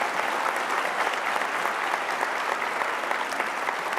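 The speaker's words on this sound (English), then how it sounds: "we give her a round of applause" An audience at a law school commencement claps for the dean, giving a steady, even round of applause that stays loud throughout and carries no speech over it.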